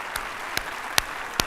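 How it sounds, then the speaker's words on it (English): A single person claps slowly during opening remarks at an event, four distinct, spaced claps sounding alone over faint room noise. "that's one person applauding"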